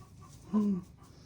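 A single short chicken cluck, faint and brief, over quiet background noise.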